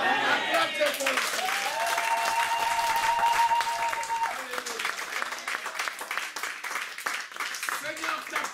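A church congregation claps and cheers while voices sing or call out over the applause, dense clapping continuing throughout, with tonal vocal lines on top in the early part.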